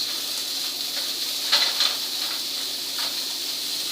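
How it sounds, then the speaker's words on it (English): Onions frying in a warm pan of hot oil, a steady close sizzle and hiss with a few brief crackling pops, no voices. "Throw those in the pan. You hear that sizzling?"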